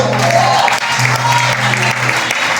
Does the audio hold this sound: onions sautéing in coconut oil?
no